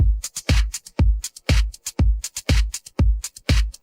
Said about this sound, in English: there's a very janky off-rhythm hi-hat pattern that sounds like this.